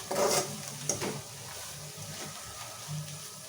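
Chillies, curry leaves and coriander cooking gently in oil for an okra curry, giving a soft, steady sizzle with a couple of louder spatters and clinks near the start.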